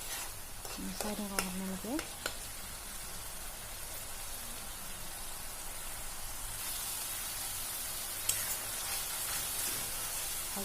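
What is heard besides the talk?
spice masala frying in a pan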